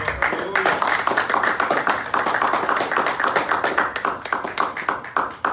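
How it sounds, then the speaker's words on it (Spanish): A church congregation claps strongly as an offering of praise, a dense, energetic round of many hands clapping nearby, continuous and loud with slight swells. "Denle una ofrenda de palmas fuerte al Señor"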